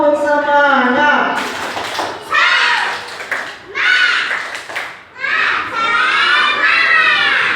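Classroom children perform a rhythmic spirit clap, bursts of clapping and loud group shouting alternating with a teacher's voice prompting them between rounds.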